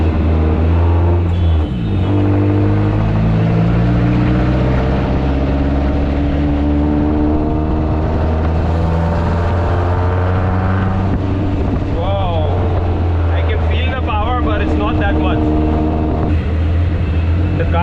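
A nitrous-equipped 118NE car engine runs lean with a loud, continuous droning hum and shifting pitch as revs rise and fall, heard from inside the car with wind rush and someone talking over it.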